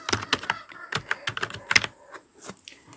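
Close, crisp keystrokes on a computer keyboard, a quick irregular run of taps that slows and spreads out toward the end, heard alone without talk.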